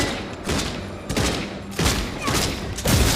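Gunfire in the video game Redfall: dense, loud, continuous bursts of shots and booms, one volley blending into the next.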